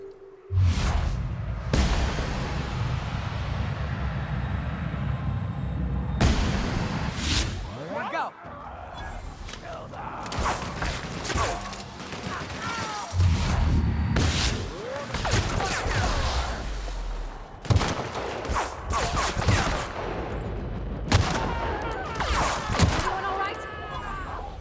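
Sniper rifle shots in the video game The Outer Worlds ring out as sharp cracks spaced through the stretch, some close together, with whooshing effects and someone talking between them.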